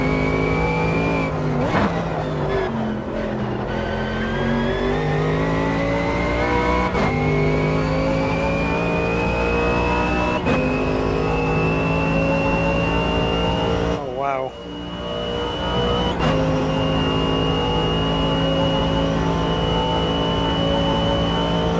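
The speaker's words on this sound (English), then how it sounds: "This is the kind of sound you'd hear from a Corvette as well. This kind of low grumble." A race car in the racing game Automobilista 2 holds a steady low engine grumble throughout, rising and falling slightly with throttle and a few brief shifts, loud and continuous.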